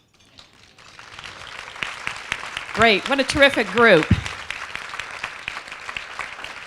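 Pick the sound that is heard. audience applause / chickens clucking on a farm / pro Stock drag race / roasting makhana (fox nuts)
audience applause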